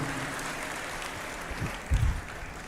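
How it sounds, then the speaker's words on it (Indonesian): An audience applauds at a public gathering in Semarapura, Klungkung, with dense, steady clapping heard from a distance that swells briefly near the end. "sekali lagi tepuk tangan yang meriah buat Semeton Titiang di Kota"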